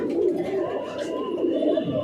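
A pigeon coos steadily, a low, continuous rolling call close by at a home loft, with a faint voice in the background.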